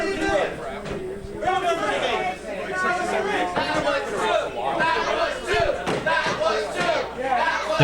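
Crowd at an indoor tag-team wrestling match for Tropical Mayhem against Mr. Ooh La La and Manic, a dense, continuous roar of chatter and shouting with scattered cheers and an occasional thud.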